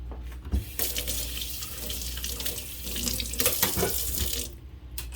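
Tap water runs steadily into a sink, rinsing conditioner out of a doll's long synthetic hair, a continuous close splash that swells as the hair moves under the stream and stops abruptly near the end.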